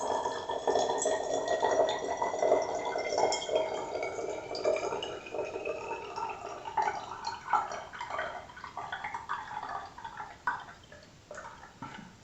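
Water is poured over a potted pothos plant and splashes onto a tabletop, with soft trickling, dripping and light clinks at a moderate, close level throughout, and no speech.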